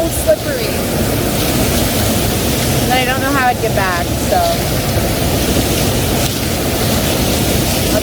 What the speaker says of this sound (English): I might just sit by it and let it splash.